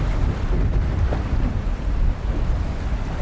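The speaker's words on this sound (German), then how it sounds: "wie prognostiziert nahm der Wind immer mehr zu" Strong wind at sea off Sørøya, Norway, buffeting a microphone on a fishing boat with a loud, gusty low roar and sloshing water, continuous without pause.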